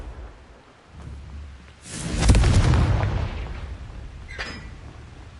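A Confringo spell explodes in the Hogwarts Legacy game, a swelling blast that builds into a broad roaring burst and fades over a couple of seconds, followed by a smaller sharp pop.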